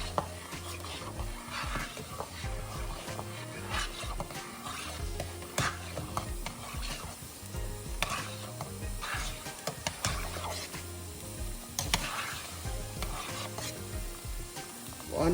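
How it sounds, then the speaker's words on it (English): Jamaican-style oxtail with beans is stirred in a pot, a spoon scraping and knocking against the metal in uneven strokes over a constant low sizzle, with no talking. "Going to give this a stir"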